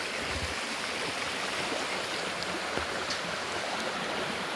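A clear mountain stream rushes among hills and areca palms, a dense, even wash of flowing water that holds steady throughout with no voices.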